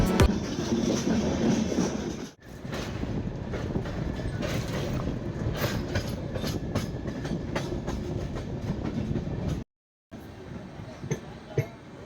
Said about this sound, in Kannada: ಈ ಟ್ರೈನ್ ಮೂವ್ ಆಗ್ತಾ ಇದೆ.